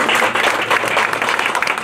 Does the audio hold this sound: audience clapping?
yes